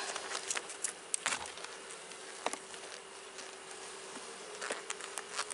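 Honey bees buzzing inside a honey box after a fume board has driven most of them down, a dense, steady, close-up hum with sharp passes of single bees flying near.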